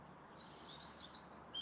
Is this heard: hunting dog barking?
no